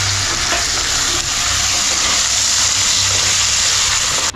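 Chopped tomatoes fry in a pan with ginger-garlic paste, making a loud, steady, broadband sizzle with continuous bubbling crackle throughout, no voices.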